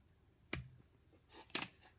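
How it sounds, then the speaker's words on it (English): Scissors snip fly-tying material while a steelhead fly is tied, giving two crisp, close cuts about a second apart in an otherwise quiet room. "Take the scissors."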